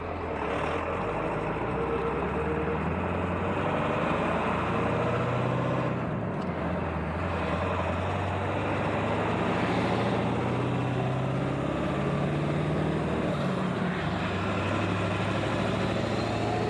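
A Ford 7.3 Powerstroke diesel truck pulls a 16,000-pound trailer, about 21,000 pounds in all, on a cold day, its engine droning loud and steady with low rumble and road noise throughout.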